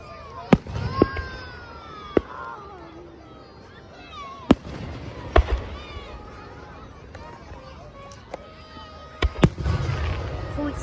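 Fourth of July fireworks burst repeatedly with sharp booms and crackles at irregular intervals, some distant and some louder, while people talk and cheer over them.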